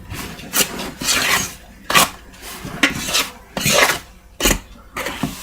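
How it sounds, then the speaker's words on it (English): A spoon lightly stirring a sugar mixture in a bowl for a honey ham glaze, repeated gritty scraping strokes with short pauses between them, close and fairly loud, with no talking. "I'm just going to kind of lightly mix it, stir it around."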